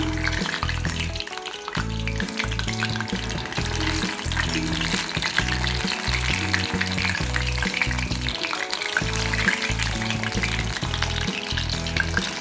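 Chicken lollipops frying in hot oil over medium-low heat, a steady loud sizzle running throughout with a dense crackling layer and repeated low knocking or rhythmic thumps underneath, no talking.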